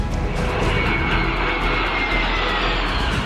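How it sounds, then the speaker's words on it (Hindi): Indian Air Force jets flying at an air show in Jodhpur, a loud, continuous engine roar overhead with no talk. "भारतीय वायुसेना के इन दमदार विमानों और मेड इन इंडिया हेलीकॉप्टर ने हर किसी का मन मोह लिया।"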